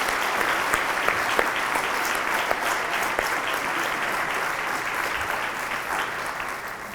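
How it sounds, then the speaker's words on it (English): Banquet audience gives a round of applause for the honorees at a 2022 7 Over Seventy awards dinner: steady, even clapping from many hands, moderately loud and continuous. "Can we just have another round of applause for all of these honorees?"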